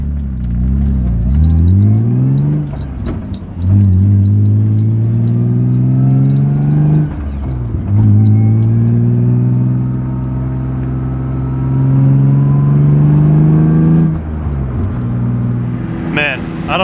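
Laguna Seca BMW E36 M3 inline-six pulling hard through several gears from inside the cabin, loud engine note climbing steadily with each upshift, under a speaking voice.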